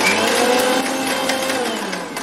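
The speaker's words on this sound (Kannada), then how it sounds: "ಇದನ್ನಿಷ್ಟು ಮಿಕ್ಸಿನಲ್ಲಿ ಪೌಡ್ರ್ ಮಾಡ್ಕೋಬೇಕು" A mixer grinder whirs steadily as it powders sugar, salt and chilli powder for bhadang chivda masala, a loud continuous motor drone with a high whine that eases slightly toward the end, with no talk.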